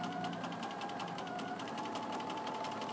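A sewing machine running a stay stitch through fabric with white thread, a fast steady mechanical whirr with rapid regular needle clatter, close and continuous.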